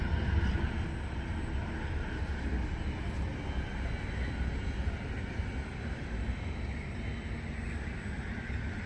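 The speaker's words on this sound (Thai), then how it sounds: "มาแล้วรถไฟ สายนี้จะเข้าสต็อกโฮมนะคะ" A train bound for Stockholm rolls into a station with a steady, loud low rumble and broadband roar that holds for the whole stretch, no voices heard.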